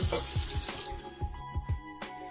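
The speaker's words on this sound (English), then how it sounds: "Here's our drips, so you can see right there, and it should work." Water trickles and drips from a DIY auto top-off container into a small aquarium tank, a steady close splashing with a series of distinct drip plops.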